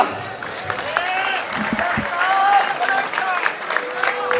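Crowd at a bar association convention applauds amid cheering, a loud continuous roar of clapping mixed with shouting voices and some whistle-like tones, full and reverberant.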